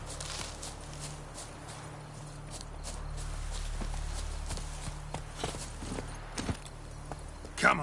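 Roach, Geralt's horse in The Witcher 3, walks with a steady clip-clop of hooves, moderately close and even in rhythm, ending in a brief louder thump.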